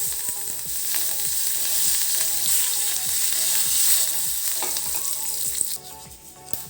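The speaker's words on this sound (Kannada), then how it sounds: "ಒಗ್ಗರಣೆ ಸಂಪೂರ್ಣ ಆಗಿದೆ ಇವಾಗ ಇದಕ್ಕೆ ಒಂಚೂರು ಕರ್ಬೇವು ಸೊಪ್ಪು ಸೇರಿಸ್ಕೊಳ್ತಾ ಇದ್ದೀನಿ" Curry leaves sizzle in hot tempering oil with turmeric, a dense steady crackle and spatter close by, easing near the end; no talking.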